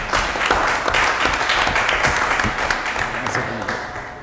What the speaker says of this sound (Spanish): yo sí voy a aplaudir porque se está concluyendo con esta gestión.